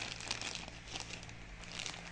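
Continuous light crinkling of small plastic packets holding medicine tokens from a board game. Close and fairly quiet, with no talking over it.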